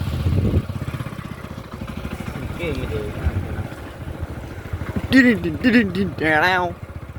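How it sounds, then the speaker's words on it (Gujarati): A low, steady engine rumble with rhythmic chugging, like a tractor motor running nearby, as people talk and call out over it. "ટ્રેક્ટર આવે છે તો ચાલો જલ્દી જઈએ"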